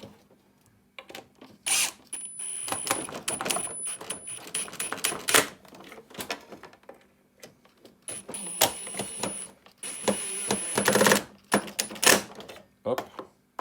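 Two screws tightened on a Zodiac pool robot being reassembled during a repair, giving close, intermittent clicking and ratcheting bursts with short metallic ticks and pauses between turns.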